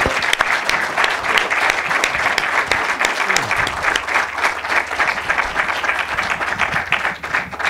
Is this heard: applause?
yes